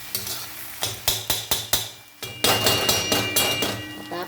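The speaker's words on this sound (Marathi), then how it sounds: "इथं मी तवा मोठा घेतला लोखंडाचा, तेही आपल्याला हलवायला हे यावं" A spoon scraping and knocking on a large iron pan while brinjal bharta is stirred, a series of sharp rhythmic clanks with a faint frying sizzle underneath, close and loud, no voices.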